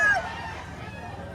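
A rooster crows at a poultry market in Lipa, Batangas, its call sliding down and fading within the first moments, followed by steady market background noise.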